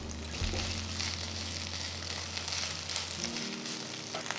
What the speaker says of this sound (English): to the pan add 1 teaspoon of gingerly oil. To this add 1 bowl of fresh mint leaves